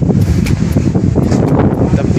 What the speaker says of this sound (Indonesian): Menikmati angin-angin sepoi-sepoi.